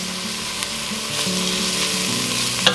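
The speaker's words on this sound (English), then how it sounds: "5 cloves of minced garlic. Give that a stir for about 1 minute." Minced garlic crackles and sizzles loudly in a hot pan, a steady close frying hiss with a few soft stirring scrapes.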